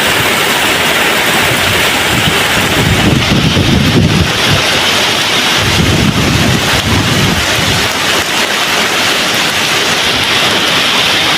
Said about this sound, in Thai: ฝนมากพร้อมกับลม